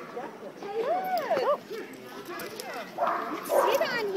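A playful border collie puppy lets out short, high yips and barks close by, interspersed with whimpers, while people talk over it.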